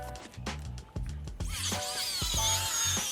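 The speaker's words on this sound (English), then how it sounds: "my DeWalt 20-volt extreme battery-powered circular saw is pretty tough, but it didn't want to go through this roof deck at all" A DeWalt 20-volt battery-powered circular saw bites into an old roof deck, starting with several short bursts before a sustained high, strained whine as the blade grinds through, close and loud.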